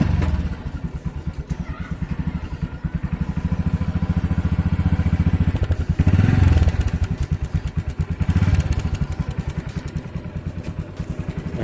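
A motorbike engine runs steadily nearby in an outdoor test beside a gas sensor, a loud continuous putter with rhythmic pulsing and a couple of brief revs.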